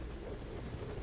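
Rotor chop and engine hum of the extraction chopper in Metal Gear Solid V: Ground Zeroes, a steady helicopter drone heard alone for a brief moment.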